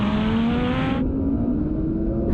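An Audi Quattro launches in a drag race, its engine roaring loud and close and climbing in pitch. After a gear change it drops back to a steadier drone, then rises again at the very end.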